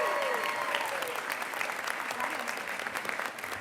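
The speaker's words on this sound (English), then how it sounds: "So a round of applause for Tamara again." Steady, full applause from a graduation commencement audience, dense clapping sustained at an even level throughout with a faint voice at the very beginning.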